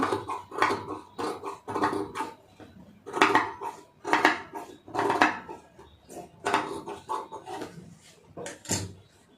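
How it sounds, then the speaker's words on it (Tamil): Scissors trim excess fabric from a sewn puff sleeve in a rapid series of crisp, metallic snips and clicks, close and fairly loud, with no talking. "இப்போ இந்த எக்ஸ்ட்ரா உள்ளது ஃபுல்லாக எல்லாமே கட் பண்ணி எடுத்துருங்க"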